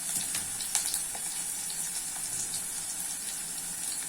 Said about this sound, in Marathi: कांदा लालसर भाजून घ्यायचा म्हणजे भाजीला चांगली टेस्ट येते